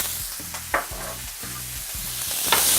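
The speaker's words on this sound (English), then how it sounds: "So what I'm just gonna do is put the rice into the pan. Then I'm going to add our sauce mixture." Cooked rice and sauce mixture stirred in a hot pan, with a steady sizzle throughout and a few sharp scraping clicks of the utensil against the pan, close and fairly loud, no voices.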